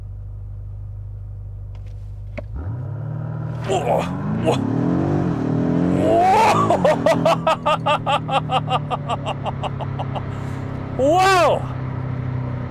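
A 2019 BMW M5 F90 Competition launches from a standstill in launch control mode, its engine note rising steeply through several closely spaced upshifts, loud and close from inside the cabin, with an excited exclamation and laughter over it.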